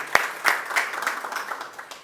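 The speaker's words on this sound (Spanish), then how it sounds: "Fuertes los aplausos." Audience applause at a book presentation for a historical collection, starting with a sharp single clap and swelling into moderate clapping from a modest crowd that gradually thins and fades.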